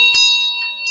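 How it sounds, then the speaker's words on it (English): Bells ring out in a few bright, shimmering strikes with sustained high tones, loud and close, the first strike strongest and later ones softer. "Bells, bells, bells,"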